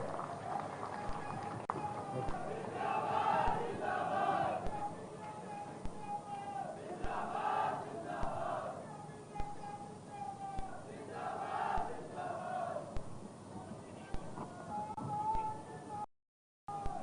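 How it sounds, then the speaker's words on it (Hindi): A crowd at a youth political rally in Jabalpur applauds and cheers to welcome the party's state president. The clapping and shouting rise and fall in several waves over a steady murmur of voices, and the sound is fairly distant. "जोरदार तालियां बजा करके अध्यक्ष जी का स्वागत करेंगे।"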